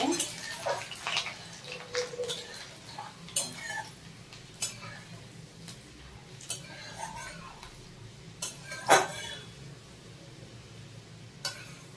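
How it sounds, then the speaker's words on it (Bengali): Chopped garlic fries in oil with dried red chillies and nigella seeds, in a gourd-peel bhorta preparation. A soft, low sizzle runs underneath, broken by intermittent utensil scrapes and clinks from stirring. "রসুনটা একটু ভাজা ভাজা করে নেব।"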